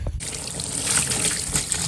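Water pours steadily onto a compressed potting mix brick as it is rehydrated, a continuous close splashing and trickling that begins after a brief quiet moment and holds at an even level.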